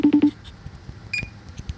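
Three short, even telephone keypad beeps open, followed by soft clicks and a brief higher electronic tone, all quiet and close in a still room.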